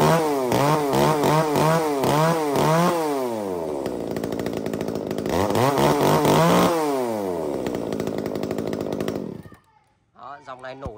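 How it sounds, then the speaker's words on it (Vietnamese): A small Echo Kyoritsu 33cc mini chainsaw with a 38mm bore revs up and down repeatedly in loud, close rising bursts, then idles and cuts out before a brief restart. "Nổ khá là ngon lành cho con máy cưa Echo Kyorit như thế này đây anh em nhé."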